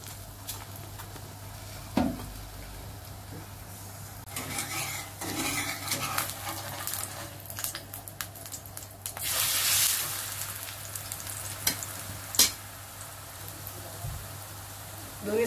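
A pancake fried in a little oil, spread and stirred with a spoon, gives soft scraping and clinking against the pan over a faint sizzle, with a louder hiss burst midway and a few sharp utensil knocks.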